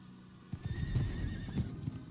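Horse galloping in the video game Diablo IV, quick hoofbeats clopping close and loud with a neigh over them, in a short burst.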